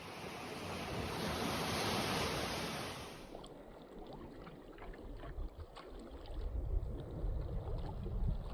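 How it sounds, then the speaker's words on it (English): Waves wash and splash close by while gusty wind roars across the microphone, loud at first, then a choppier lapping of water. "The winds picked up and the waves grew bigger."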